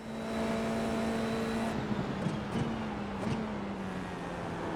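F4 race car engine droning steadily on track at Summit Point Raceway, heard from the cockpit with a constant engine tone and brief rough bumps partway through.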